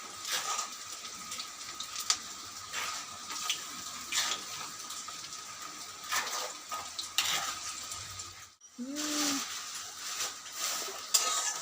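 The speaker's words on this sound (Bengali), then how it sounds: "আমি একটা একটা করে পেঁয়াজি ছেড়ে দিচ্ছি" Onion pakoras frying in hot white oil, a continuous loud crackling sizzle with bubbling and occasional stirring, briefly dropping out then resuming.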